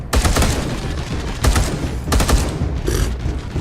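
Rapid gunfire in the video game Space Hulk: Deathwing, loud bursts of automatic shots in several sustained volleys with short gaps between them.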